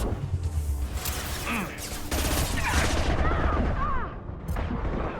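Gunfire in the video game Mass Effect 2, bursts of weapon fire and impacts in a combat scene, loud and dense, mixed with game effects and brief voice sounds.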